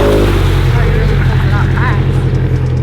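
A 1,000-horsepower Subaru STI driven hard, its loud, steady engine roar holding close for a few seconds while people talk over it.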